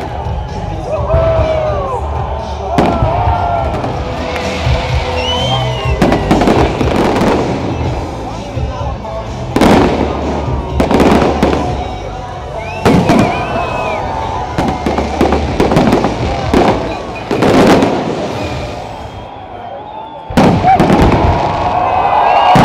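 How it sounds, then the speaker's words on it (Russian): Festive fireworks salute closing a town day celebration in Dedovsk: repeated sharp bangs and crackling bursts at irregular intervals, loud and continuous, over a steady murmur of crowd noise and voices. "Закончился праздник торжественным салютом."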